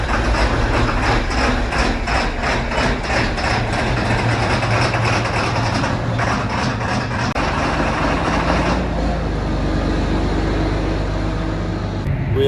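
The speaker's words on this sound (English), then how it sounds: "we like to run the 8100 on the grain cart when we can help it." A John Deere 8100 tractor pulling a grain cart during fall harvest, a steady heavy low diesel drone running continuously and loud throughout, with the tone shifting slightly partway through as the load or throttle changes.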